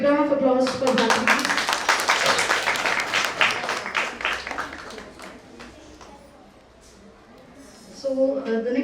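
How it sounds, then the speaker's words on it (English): A school showcase audience gives a child named Bharati a round of applause: dense, loud clapping that swells, then thins and fades before voices return near the end. "Can we have a big round of applause for Bharati?"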